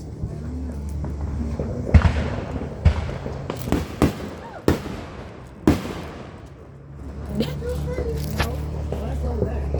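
Fireworks going off outdoors on the Fourth of July, a run of sharp, loud bangs like gunshots spaced through the clip over a steady low rumble, with voices talking throughout.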